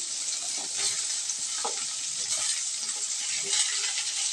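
Carrots and beans sauté in a hot pan for veg kurma, giving a steady, close sizzle with occasional stirring scrapes and clinks throughout.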